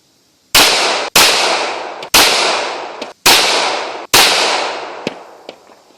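Five sharp pistol shots are fired at targets on an outdoor range, loud and close, spaced roughly a second apart, each followed by a brief decaying echo. Faint metallic clinks come after the last shot.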